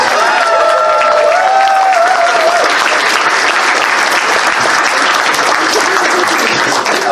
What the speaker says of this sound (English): We need to give a huge round of applause to the warm and fuzzies.